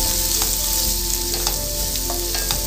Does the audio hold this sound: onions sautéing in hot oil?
yes